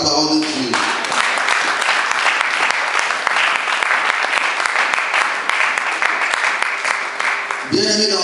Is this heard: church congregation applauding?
yes